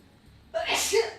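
A single short, sharp sneeze bursts out close by in a quiet room during a live trading session, preceded by a brief inhale.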